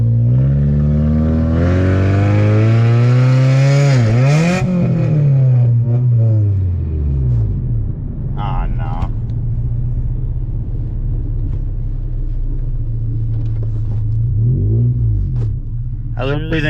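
A Honda Civic engine with bad rear brakes and no transmission fluid revs loudly close by, its deep roar rising and falling in several surges over a steady rumble, with voices speaking over it.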